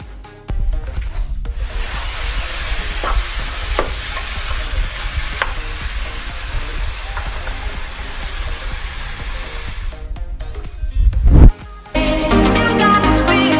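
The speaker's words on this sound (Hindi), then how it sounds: "अब मेरा कीमा थोड़ा भुन गया।" Half a kilo of minced keema, cooked with coriander, dried pomegranate seeds, garlic, ginger and green chillies, fries loudly in a pan. The dense, steady sizzle with stirring scrapes breaks off briefly near the end, then resumes.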